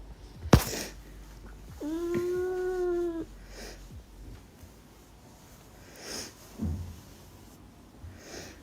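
A cat gives one drawn-out, rising-and-falling meow lasting about a second and a half in a quiet room, then a few soft snorts and breaths follow, with no talking.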